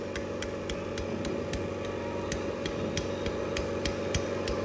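A loose connecting rod knocking on the crankshaft pin of a Honda Vario scooter engine, bored up with a 68mm piston, producing a steady rapid ticking over a continuous engine hum, close and moderately loud.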